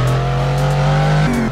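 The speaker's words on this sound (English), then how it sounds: "I think we're gonna accelerate again." Brabus GT900 supercar in a Roblox driving game, its engine droning loud and steady under acceleration, then shifting up to a higher pitch near the end.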